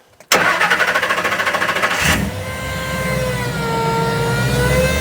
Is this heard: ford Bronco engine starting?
yes